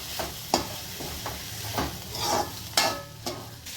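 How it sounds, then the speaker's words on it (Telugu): Cluster beans stirred into fried egg in a hot pan, an ongoing sizzle broken by several sharp spatula scrapes and clinks at irregular intervals, close and with no voices. "గోరు చిక్కుడుకాయ వేసుకొని ఒకసారి కలుపుకోవాలి"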